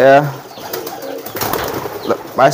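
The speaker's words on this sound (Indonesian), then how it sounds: "ini merpati kolong nih, tuh lagi giring juga" Kolong pigeons coo in close, low rolling calls at the start and again near the end, with someone speaking between them.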